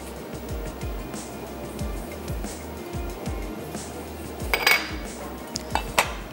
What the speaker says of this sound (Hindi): शिमला मिर्च की भी कटिंग कर लेते हैं